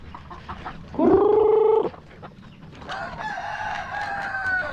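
Native chickens on a small farm: a rooster's loud crow close by, then a steady chorus of hens and chicks clucking and chirping.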